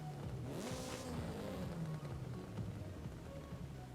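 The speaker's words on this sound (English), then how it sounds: "I forgot to rev the engine at the beginning" An Acura car's engine in the racing game Forza Horizon 5 revs up and then settles at a moderate, wavering pitch over about four seconds, fairly quiet and with no talking.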